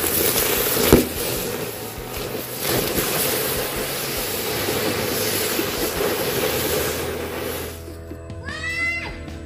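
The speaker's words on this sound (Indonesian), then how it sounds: "yang selanjutnya ini kita nyalakan mercon gangsing beng beng" Spinning beng beng ground firecracker fizzing outdoors with a steady loud hiss and crackle for several seconds, one sharp pop near the start, then dying off into rising whistle-like shrieks at the end.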